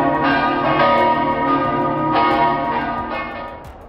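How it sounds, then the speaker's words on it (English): A church bell rings steadily with repeated strikes and long, shimmering overtones that blend into one another, loud and continuous, fading slightly toward the end. "when I film a church, we'll hear a church bell sound"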